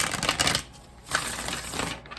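Hidden Truth Oracle cards shuffled by hand, a couple of quick papery riffling bursts at moderate volume, close and brief.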